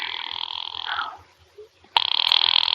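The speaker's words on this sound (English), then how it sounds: "Ringing the police department." A telephone rings in an old radio thriller drama: a loud, buzzing ring cuts off, there is a short near-silent gap, and then a second ring starts sharply.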